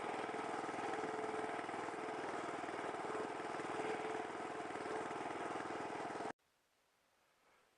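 An Allett Classic cylinder lawn mower engine runs with a steady, even drone at low volume for about six seconds, then cuts off abruptly into near silence.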